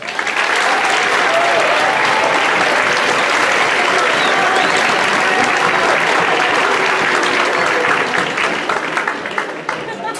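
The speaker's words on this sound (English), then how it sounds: "let's give a round of applause to all of our coaches." An audience at a high school athletic awards ceremony applauds its coaches, loud sustained clapping with crowd murmur and a few whoops, thinning slightly at the end.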